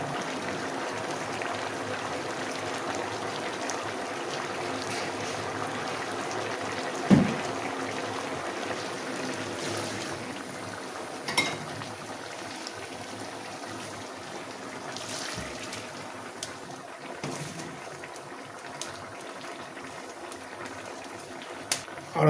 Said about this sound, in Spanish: Ahora que está pleno hervor